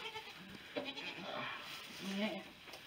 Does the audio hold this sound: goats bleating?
yes